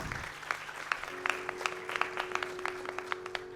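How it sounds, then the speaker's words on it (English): Applause at a Bharatanatyam arangetram honouring the nattuvangam guru, scattered distinct hand claps from an audience, fairly quiet and distant, with a sustained drone tone running beneath. "Please give a round of applause to Guru Srimati Shubhangi Bhalerao on the Nattuvangam."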